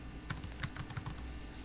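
Fast, light keystrokes on a computer keyboard tap out a short web address, a quick burst of close, crisp clicks with no voice.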